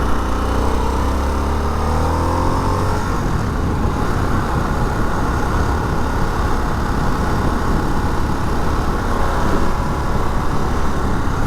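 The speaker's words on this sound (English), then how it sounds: "Roll on the throttle." A 2021 Harley-Davidson Sportster S motorcycle engine pulling hard under throttle, loud and close with a rising growl over the first few seconds, then a steady roar mixed with rushing wind, no talk.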